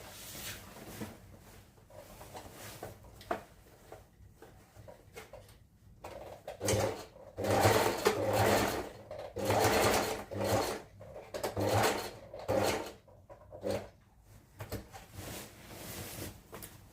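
A sewing machine stitches a seam down the leg of a pair of baggy pants, running in bursts of whirring with short pauses between, loudest in the middle stretch, with no talking.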